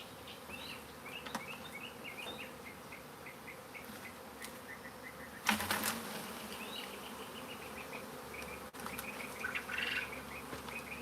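A honeybee swarm drones in a continuous dense buzz during an outdoor swarm capture, individual bees zipping past close by, with a sharp rustling knock partway through and faint bird chirps behind.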